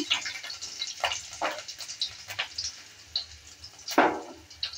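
Four garlic cloves sizzle softly in a pan of oil while lentils are being cooked with bathua greens, with irregular scrapes and clinks as a spatula stirs them, fairly close and quiet.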